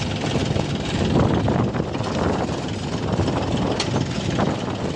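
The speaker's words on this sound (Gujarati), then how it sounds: "ટ્રેક્ટર આવી જાય છે" A loud, steady tractor engine roar fills the air, a continuous rumbling drone that stays close throughout, on a farm during onion planting.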